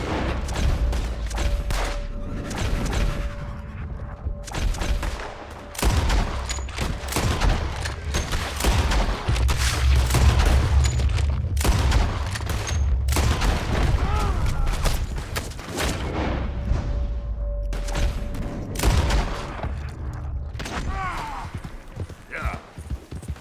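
Gunfire in a Red Dead Redemption 2 shootout, dense bursts of shots under continuous loud game sound, with hoofbeats and voices shouting throughout.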